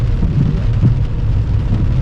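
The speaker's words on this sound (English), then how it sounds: "So the rain's picked up now." Rain drums on a car during a driving lesson, a dense low steady wash of patter heard from inside the cabin with a faint engine hum underneath.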